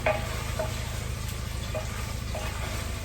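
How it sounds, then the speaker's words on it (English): Soy sauce is stirred into food frying in a pan, with a constant close sizzle and occasional soft scrapes of the stirring utensil, no talking. "I'm gonna put some soy sauce and then I'm gonna stir it around."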